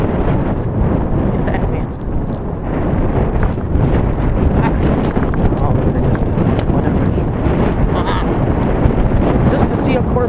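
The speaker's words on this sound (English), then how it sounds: "Sure is windy." Strong wind roars and buffets the microphone nonstop on a Detroit city street, a dense rumbling wash with someone talking briefly under it.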